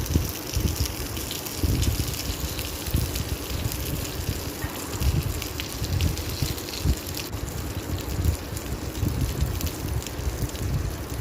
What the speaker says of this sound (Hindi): इसने हल्का हल्का सिजल करना शुरू कर दिया है बिकॉज कास्ट आयरन की प्लेट बहुत गर्म हो जाती है।